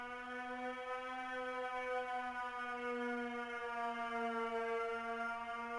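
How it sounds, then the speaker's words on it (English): A steady, harmonically rich klaxon alarm in the PS2 game Shadow Hearts drones on without a break, flat and continuous, moderately loud with a faint hiss underneath. "That klaxon just does not sound right."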